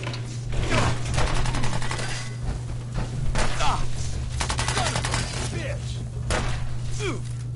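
Repeated bursts of gunfire in the Fallout 4 video game, sharp reports coming in rapid clusters over a steady low hum, with voices talking over the shooting.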